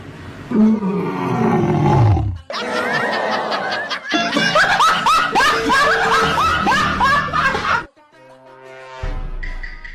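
Lion roar sound effect: loud, rough growling roars with falling tones, followed by laughter-like chuckling sounds, all up close and dense before ending in a quieter tail.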